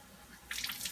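Water gushing out of an upturned glass jar, a sudden splashing rush starting halfway after a quiet moment, close and bright.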